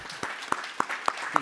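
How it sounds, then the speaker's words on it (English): Scattered applause from a tech meetup audience at Civic Hall, New York: a handful of sharp, separate claps spaced about a third of a second apart, moderately close. "A round of applause for yourselves."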